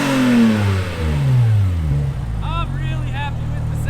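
A Porsche 992 GT3 fitted with an aftermarket exhaust revs up through several sharp rising sweeps, close and loud, then settles to a steady idle with brief high chirps.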